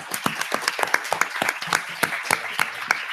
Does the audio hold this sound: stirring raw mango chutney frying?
no